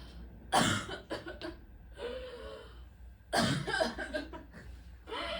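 An actor coughs on stage during a theatre performance, two harsh bursts separated by a brief pause, close and clear.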